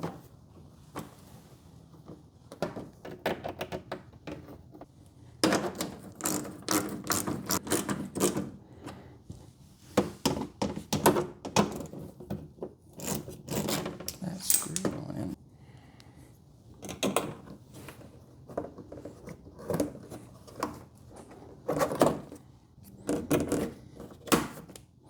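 Rattling, clicking installation work as a mud flap delete panel goes onto a vehicle with screws and rivets: bursts of tool whirring and sharp snaps come in irregular clusters, close by, with quiet gaps between them.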